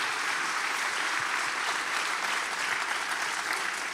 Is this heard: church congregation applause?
yes